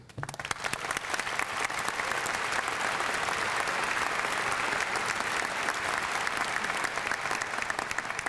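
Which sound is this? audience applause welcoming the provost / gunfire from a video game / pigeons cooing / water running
audience applause welcoming the provost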